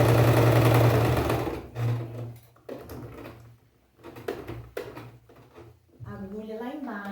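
A sewing machine stitches fabric in a short burst at the start, then a brief second run, followed by scattered handling clicks and a voice speaking.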